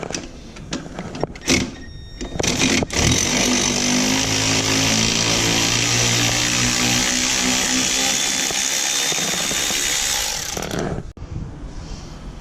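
A cordless electric impact driver or drill runs loud and steady for about eight seconds while fastening bolts on a Kawasaki Ultra 300/310 jet ski pump wedge, preceded by a few sharp clicks and clanks of handling the tool.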